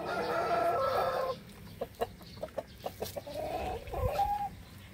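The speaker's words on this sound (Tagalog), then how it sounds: "itong maingay na matandang manok na to na si Baby Hawk" An old chicken clucks and crows nearby, starting with a drawn-out call, then a run of sharp, rhythmic clucks and another short call.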